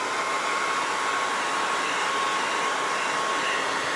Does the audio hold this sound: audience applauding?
no